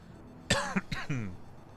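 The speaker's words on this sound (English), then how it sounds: "We're talking so much business, I start coughing." A couple of short, throaty coughs close to the listener, the second rougher and tapering off, with quiet background otherwise.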